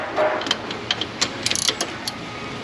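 Quick ratchet clicks tightening a nut on an engine, arriving in short bursts with a rapid run of clicks near the middle, close and fairly quiet over a faint background hum.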